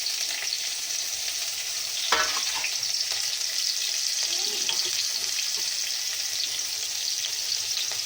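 Curry leaves and green chilies hit a little hot oil for poha namkeen and set off a steady, even hiss, with a brief burst of crackle near the start and continuing sputter.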